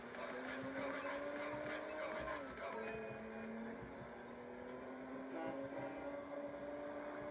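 A car engine in GTA 5 drones steadily with gentle pitch rises and drops like gear shifts, playing faintly over a constant electrical hum.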